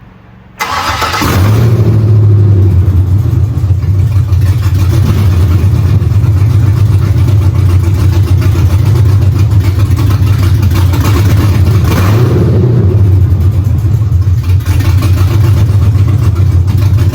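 An LS-swapped car engine starts and runs loud and close, its deep steady idle rumble rising briefly with a rev partway through before settling again, with no voices.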